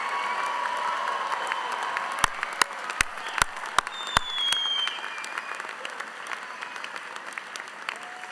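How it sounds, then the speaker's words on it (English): Applause for graduates at a University of South Carolina winter graduation ceremony, a large crowd clapping in a sustained, even roar with a few sharp cracks standing out before it slowly thins. "give one more big round of applause to our 2020 graduates"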